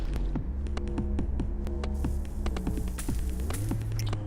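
Steady background music from the video game Waking Mars, a low humming drone with chiming electronic notes and gliding tones drifting over it, continuous and moderately loud, with no talk.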